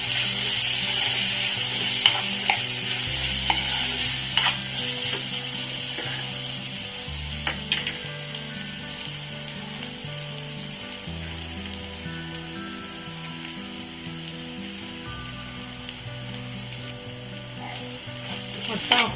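Dried fish frying in a pan with chili powder added, a continuous bright sizzle joined by scraping stirs and occasional clicks of a utensil, close and steady throughout.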